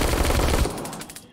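Burst-fire gun in The Walking Dead: Saints & Sinners VR game, a loud, close, rapid string of shots lasting about a second before cutting off.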